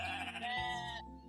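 A sheep in the video game Equilinox gives a single short, nasal bleat that wavers briefly and then stops, fairly quiet and alone.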